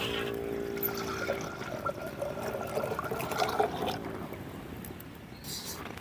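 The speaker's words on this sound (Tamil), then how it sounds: "தண்ணி ஊற்றிக்கலாம்." Water pours steadily into a cooking pot set on a village stove for sambar, a continuous, moderately loud trickling gush with no talking.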